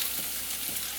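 Sliced onion fries in hot coconut oil in a kadai, a loud, dense, steady sizzle heard up close for a brief moment.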